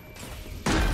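A Valorant shock dart ability lands with a sudden loud burst that crashes in over a low game-ambience hum partway through and holds briefly at full strength.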